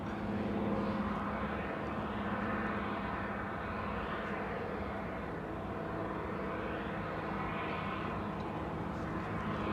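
An aircraft flying over Anchorage, a loud continuous engine drone with slowly rising and falling tone that fills the whole stretch, with no talk over it.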